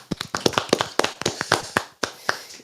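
Scattered, polite clapping from a small live audience at a show, a few hands tapping in uneven bursts over roughly three seconds, close and modest in volume with no voices.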